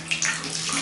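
Water runs from a bathtub faucet at strong pressure, a loud, steady, close rushing splash that fills the whole short moment.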